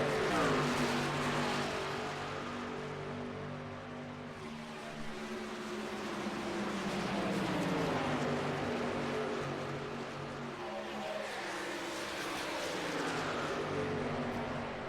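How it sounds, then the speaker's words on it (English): Engine of Terry Hughes Jr.'s number 81 truck in a racing game at Las Vegas Motor Speedway, held as a steady droning roar with wavering pitch, easing off the throttle and swelling again, loud and continuous. "You hear him off the gas big time there, trying to save a little something possibly here on the long run"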